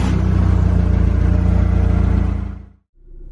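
A forklift engine runs loud and steady with a deep low rumble for close to three seconds, cuts out abruptly, then picks back up at a lower level. No voices are heard.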